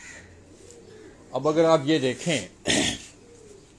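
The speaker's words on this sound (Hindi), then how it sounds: "यहाँ उनके उड़ने वाले कबूतर हैं" Pigeons coo softly in a rooftop cage, faint and low in the background while someone talks over them in the middle of the stretch.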